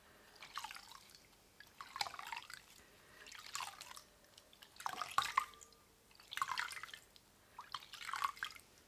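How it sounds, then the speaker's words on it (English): Water trickles and drips while foundation is rinsed off a makeup brush, in soft, repeated wet swishes about every one to one and a half seconds, close and quiet. "I'm trying to keep it low so the water doesn't go into this connecting bit, and just dissolving all the foundation off from the brush."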